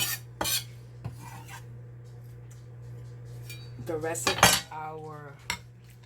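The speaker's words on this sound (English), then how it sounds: "we're going to give it a stir" A spoon stirs seafood ceviche in a bowl, giving a few scraping clinks early on and then a busier burst of clattering and rubbing toward the end, close and moderately loud over a low background hum.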